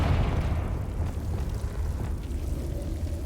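A Confringo fire spell explodes in the Hogwarts Legacy video game, giving a loud, dense, low rumbling boom that holds steady for a few seconds without a sharp start.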